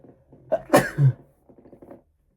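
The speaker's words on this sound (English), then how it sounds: "Excuse me, I'm going to sneeze." A single close sneeze, a quick sharp burst, followed by brief faint murmuring or breathing afterward.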